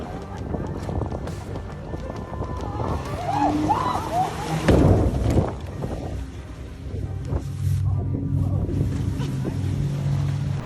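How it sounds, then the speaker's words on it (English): A speedboat slams over choppy waves, its engine droning steadily while hull impacts, splashes and wind buffeting the microphone rise and fall across the run, with one heavier crash near the middle. "This is how not to ride a speedboat."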